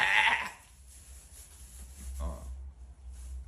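Sheep on a farm give a short, nasal bleat up close at the start, followed by quieter rustling and a faint second bleat over low background rumble.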